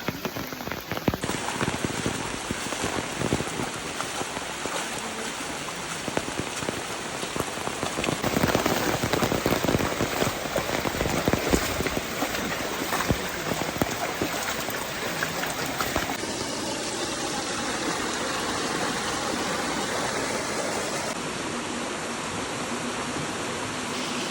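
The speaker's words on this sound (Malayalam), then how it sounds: "നിൽക്കാൻ വയ്യ അത്രക്കും മഴയാണ്" Heavy rain pouring steadily, a dense, loud hiss of drops pattering on surfaces that continues without a break throughout.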